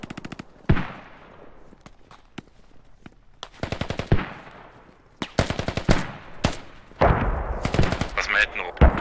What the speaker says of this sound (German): Achtung, Schuss, Beschuss.